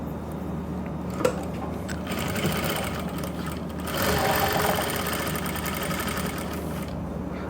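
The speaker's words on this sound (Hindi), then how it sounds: "इसको अच्छी तरह से सेट करके ऐसे सिलाई लगा लो" A sewing machine stitches trousers with elastic and a belt, running in a steady rapid mechanical whir that pauses briefly and then speeds up into a louder, denser burst before easing off.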